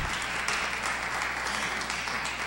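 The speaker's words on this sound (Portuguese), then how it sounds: "palmas para ele" Church congregation applauding, a steady wash of clapping from many hands that holds evenly throughout without breaks, with no voices standing out above it.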